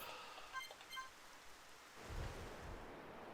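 Rain and thunder in the video game Xenoblade Chronicles: Future Connected, a soft steady downpour with a low rolling thunder rumble swelling partway through, quiet and without speech.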